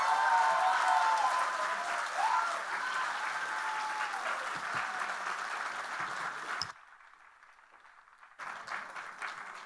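An audience applauds loudly, a sustained wash of clapping welcoming historian William Dalrymple. It gradually thins and cuts out briefly near the end, then resumes at a lower level.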